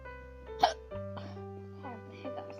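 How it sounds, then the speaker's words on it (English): A person hiccups once sharply, then gives softer voiced hiccup-like sounds, close and clear, with a bit of vocal tone around them. "I got the hiccups."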